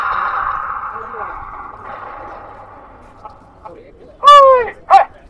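A recorded dog bark played through the speaker of an automatic bird-scaring machine at an agricultural fair, two short sharp barks following a fading synthetic tone, loud and close.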